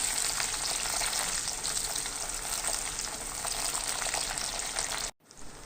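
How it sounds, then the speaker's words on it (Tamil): Garlic and small shallots sautéing in hot oil, a dense, steady sizzle close up that runs unbroken before cutting off abruptly near the end. "10 போல் பூண்டும் சின்ன வெங்காயத்தையும் இந்த எண்ணெயிலேயே சேர்த்து நல்லா வதக்கி விட்டுக்கலாம்"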